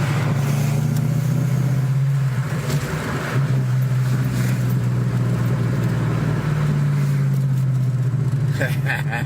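Loud, steady drone of a car engine with burble tuning and no boost, idling and revving low near the microphone, with brief crackles toward the end.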